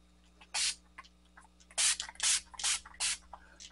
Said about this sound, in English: There's a lot of mist, but it's actually a nice mister.